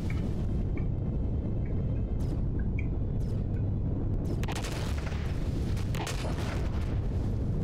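Turrets in the video game Empyrion fire at troops and drones, producing a dense, continuous barrage of booming gunfire with sharper bursts toward the end, loud and unbroken throughout.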